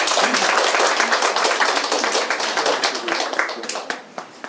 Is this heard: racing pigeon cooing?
no